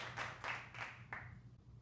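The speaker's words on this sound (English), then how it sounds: "can we have a round of applause for Madam Geoffrin?" A few scattered hand claps, roughly four soft bursts, from a small audience in an Enlightenment-era salon. The clapping is faint and thin and dies away quickly.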